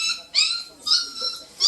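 A stray dog being caught by a pound team whimpers and yips in high, thin cries, several short whines in quick succession, close and clear with no talk.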